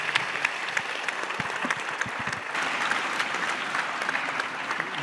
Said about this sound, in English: A big round of applause to our moderator, Dr. A.K. Merchant, and to all our panelists for the valuable contribution to the discussion.